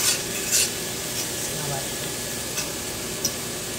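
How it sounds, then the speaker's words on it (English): Onions and peppers sauté in a pan with a continuous, moderate sizzle, broken by a few light clinks of a stirring utensil. "I love the smell of onions and peppers being sauteed."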